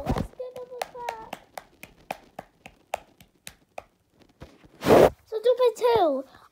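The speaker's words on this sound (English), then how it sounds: "Let's give him a clap." Children in a classroom clap for an award winner, a quick run of separate claps that starts crisp and thins out, followed by a burst of cheering and children's voices.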